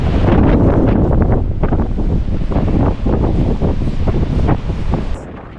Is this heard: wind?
yes